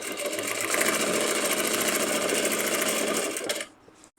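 A regular domestic sewing machine without a stitch regulator runs steadily at high speed during free motion quilting, a continuous close whirring hum that stops abruptly near the end.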